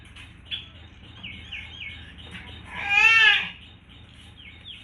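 Java sparrow chicks chirp in quick repeated peeps, with one louder, busier burst of cheeping in the middle, close by.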